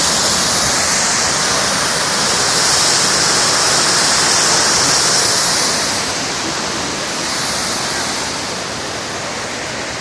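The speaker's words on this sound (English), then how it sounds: "It's a very huge fountain." Water from a very large fountain in Grand Rapids pours and splashes in a steady, loud rush that swells slightly midway and then eases a little, with no break.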